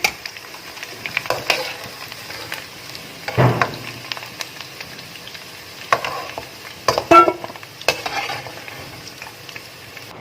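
Golden fried potatoes being stirred and lifted from hot oil for aloo gobhi, with a steady low sizzle broken by several scraping, clinking strokes of a utensil against the pan.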